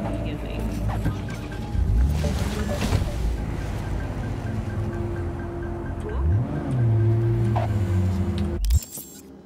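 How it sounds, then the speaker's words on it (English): A car driven through the city in the video game Cyberpunk 2077, its engine humming and rising steadily as it accelerates, with a sharper whine partway through, heard under a person speaking over the gameplay. "But I love this car."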